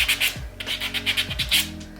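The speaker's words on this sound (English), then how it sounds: "take my buffing block and just kind of smooth out those little grits that I made in my nail" A buffing block smooths rough grit off a press-on acrylic nail with short, rhythmic rubbing strokes, close and fairly soft, with no talk over it.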